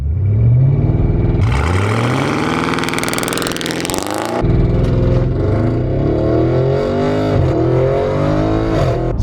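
An 800-horsepower Audi RS7 launches from a standstill. The engine roars close and loud, climbing through a hard rev, then keeps pulling with rising tones as the car accelerates through successive gears.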